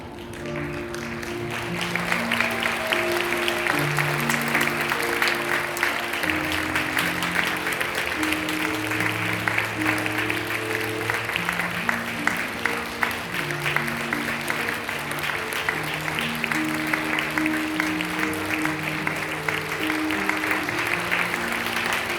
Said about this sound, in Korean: 뜨겁게 박수로 감사하시면 되겠습니다